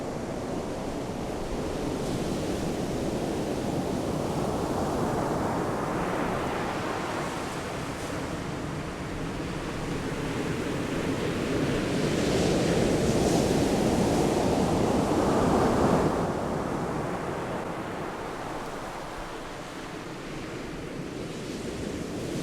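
Waves break on a beach at night under a full moon, a steady, loud wash of surf that swells and recedes in slow surges with no voices.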